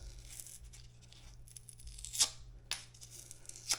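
Paper facing peeled away from the edges of a drywall patch, with a low steady hum underneath and a couple of sharp tearing rips near the end.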